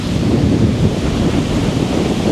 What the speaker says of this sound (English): see how windy it is today?